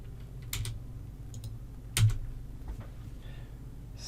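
Typing on a computer keyboard during network configuration work, a few sparse, close keystroke clicks with one sharper tap midway against a faint background hum.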